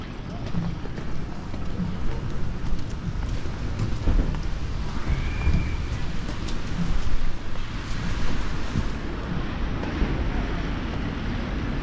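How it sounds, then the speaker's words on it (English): Rain falls steadily outdoors on a town street during a Christmas lights switch-on, a dense continuous hiss with wind noise buffeting the microphone throughout. "Still raining."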